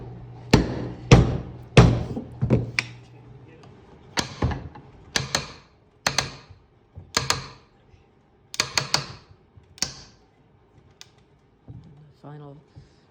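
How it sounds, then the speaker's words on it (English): A chair rung being forced into its frame by a clamp during final tightening gives a series of sharp, close wooden pops and cracks at irregular intervals, with a brief voice near the end. "that popping noise is the rung going in"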